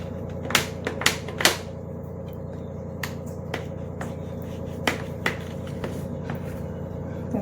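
A knife cuts a set rava besan barfi into square pieces, giving a series of sharp, fairly close taps and clicks at irregular intervals over a steady low background hum, with no talking.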